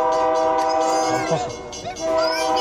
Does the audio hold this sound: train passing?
yes